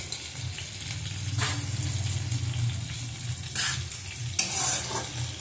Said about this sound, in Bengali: ভালো করে কষিয়ে নেব মশলাটাকে